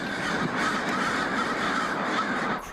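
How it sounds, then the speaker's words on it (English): A large flock of crows in Portland caws continuously, many harsh overlapping calls forming a dense, loud chorus throughout with no speech. "Crows, they fly in the thousands"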